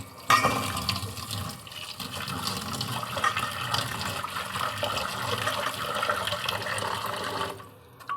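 Tap water pouring steadily into a sink while bottle gourd leaves are washed, a continuous close splashing rush with slight sloshing, ending abruptly.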